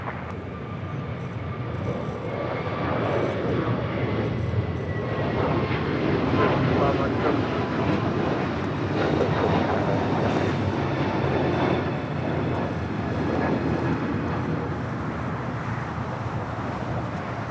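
Passenger jet landing on runway 25 left at LAX, a steady broad engine roar and whine sustained throughout, with radio and commentary voices talking over it.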